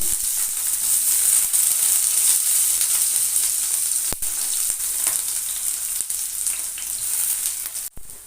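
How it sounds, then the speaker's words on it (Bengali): Eggplant pieces sizzle and crackle steadily in hot oil while cooking gima shak, a dense, continuous frying hiss throughout with a couple of brief sharp pops, loud and close with no talk. "আমি বেগুনগুলো দিয়ে দেবো ভাজার জন্য"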